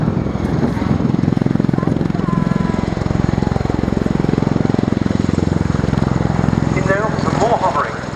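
V-22 Osprey tiltrotor hovering at the RIAT air display, a loud continuous rotor thrum with a pulsing beat and shifting engine whine, while a commentator talks over it.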